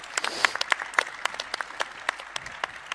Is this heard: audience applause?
yes